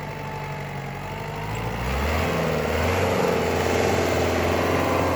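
A Kubota GT5 compact tractor with a 24 hp engine runs nearby, a steady mid-pitched diesel drone that rises slightly as it revs up partway through.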